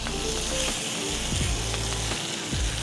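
Cajun turkey sizzling in hot oil on a grill, a steady close crackling fry with a few scraping, clicking spatula strokes on the metal surface, no voices.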